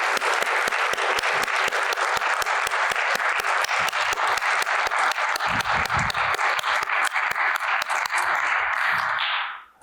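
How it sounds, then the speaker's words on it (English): Sustained, dense audience applause at a Black artist showcase celebrating participants, loud and steady for nearly ten seconds before cutting off abruptly at the end. "let's give a warm round of applause for all the participants one more time"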